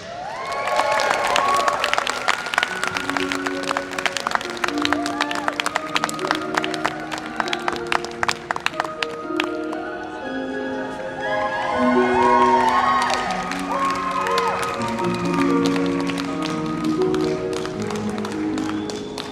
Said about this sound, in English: please give a big round of applause to Larry Moore, who will be Forest Witch